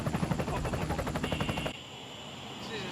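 An attack helicopter's rotor beats in a rapid, pulsing chop for under two seconds, then gives way to a lower, steadier engine whine.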